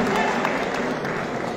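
An audience at a Turkish youth association gathering applauds, with dense, even clapping held at a steady level and crowd voices mixed in throughout.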